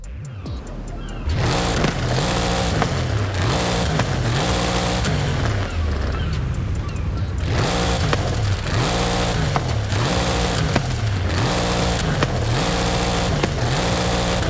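A 2021 Audi RS6 engine fitted with a swapped exhaust in Forza, revving loud and close in repeated rising and falling surges through gear changes after a brief quieter start.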